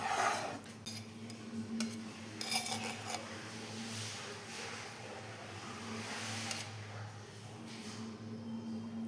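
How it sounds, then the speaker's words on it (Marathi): Maida flour being dry-roasted in a pan without ghee, with a spatula scraping and clinking against the metal in steady, close strokes and a few sharper knocks, over a low background hum. "सुरुवातीला मी तूप न घालता ह्याला थोडं परतून घेते व्यवस्थित"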